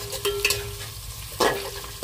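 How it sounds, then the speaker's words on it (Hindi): Ginger and green chili frying with garlic and onion in a pan, a close steady sizzle punctuated by several scraping stirs of a spoon against the pan. "अब इसमें ऐड कर देंगे ये अदरक, हरा मिर्चा, इसको भी हम हल्का फ्राई करेंगे।"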